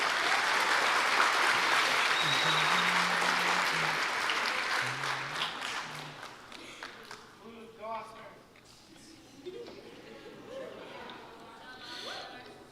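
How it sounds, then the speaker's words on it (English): An audience applauds for an award winner at a junior high school spring band concert. Loud, dense clapping fades out over several seconds, and then a voice begins speaking. "Give him a huge round of applause."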